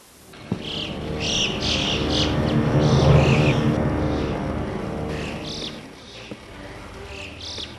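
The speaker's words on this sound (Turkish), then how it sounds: "Kuzgunlar zaten beni korkutuyor." Ravens call in a cave area in Isparta, harsh croaking cries repeating in several bursts over a steady rumbling background, fairly close and loud, with no voices.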